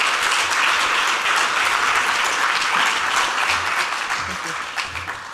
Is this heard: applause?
yes